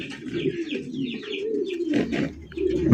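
Pigeons coo in soft, throaty rolling calls, one after another, close by on a pigeon farm, with no talking.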